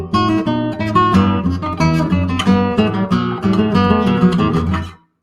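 Dense contrapuntal music in the manner of Johann Sebastian Bach, two interweaving lines in busy, regular rhythm, loud and continuous before stopping abruptly near the end.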